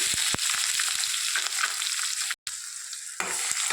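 Onions fry in oil with cumin seeds, green chillies and curry leaves in an Andhra-style drumstick curry, a loud continuous sizzle close up with stirring clatter and a brief break partway through.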